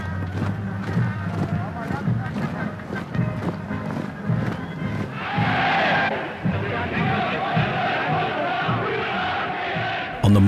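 A crowd of supporters cheers in a staged film reenactment of Adolf Hitler leaving the Hotel Kaiserhof in Berlin in 1933. Loud, dense crowd noise swells steadily, with hoof clatter and shouts mixed into the din.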